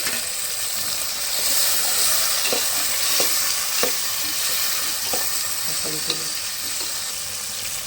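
Chopped tomatoes stirred into a frying pan for a Tamil dried-fish curry, giving a steady close sizzle with repeated scraping, clinking stir strokes throughout.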